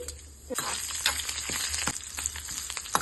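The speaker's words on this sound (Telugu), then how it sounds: "ఇప్పుడు మరొక పక్కన ఒక కడాయి పెట్టుకొని పోపు దినుసులు వేసుకోవాలి. ఆవాలు, జీలకర్ర వేసుకొని కొద్దిగా వెల్లుల్లి." Mustard seeds, cumin and a little garlic frying in a kadai for tempering: a steady, close, bright sizzle with soft crackles and pops throughout, and no voices.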